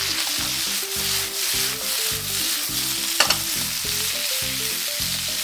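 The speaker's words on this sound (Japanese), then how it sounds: "豚肉の油で野菜をしんなりとさせます。" Cabbage, carrot, green pepper and garlic chives stir-frying in pork fat over medium heat for shio yakisoba, a steady loud sizzle broken by rhythmic scraping strokes of a spatula, with one brief metallic clink.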